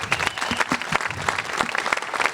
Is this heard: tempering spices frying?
no